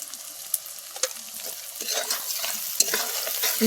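Onion, ginger, garlic and turmeric with salt frying while being stirred, a close crackling sizzle broken by repeated spatula scrapes and knocks against the pan, no talking.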